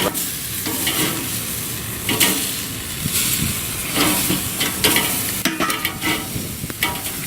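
Burger buns toasting in a hot pan for a buffalo chicken burger, a steady close sizzle with intermittent crackles and scraping stirs, heard alone.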